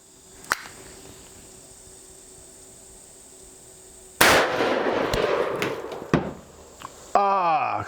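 A Taurus Raging Hunter revolver in .460 S&W Magnum fires single action at a watermelon outdoors: one loud, sharp blast followed by lingering noise and a further burst, with no talk during the clip.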